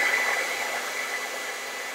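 A hair dryer blows on wet acrylic paint, a close, steady whooshing hum with a faint high whine that fades slightly over the short stretch, no talking.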